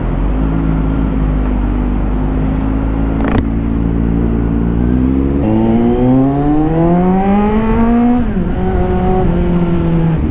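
A 2022 Kawasaki Z900 motorcycle, fresh from an oil change, is ridden close and loud, its engine note holding steady, then climbing through the gears in rising pulls before a shift drops the pitch, with no talk.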